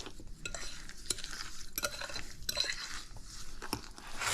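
Brown sugar being stirred into a sweet potato casserole mix in a bowl, a steady scraping stir with soft rhythmic clinks of the utensil, close and moderately quiet with no talking.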